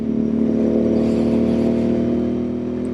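A custom Royal Enfield INT650 twin with an aftermarket exhaust pipe rumbles steadily at a constant throttle, a close, loud, even drone with no speech.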